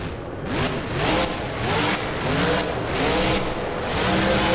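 The Grave Digger monster truck charges down a straightaway and over a ramp in BeamNG, its engine revving in repeated surging waves, loud and close, rising and falling several times.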